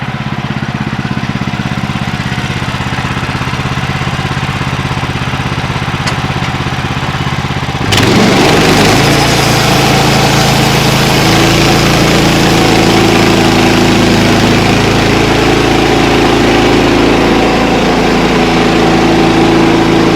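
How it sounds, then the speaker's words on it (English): A sawmill engine idles steadily, then a hydraulic power lift kicks in with a sudden rise into a louder, rougher mechanical drone that holds for the rest of the stretch, loud and close, with no voices. "Power lift makes all that cranking go away."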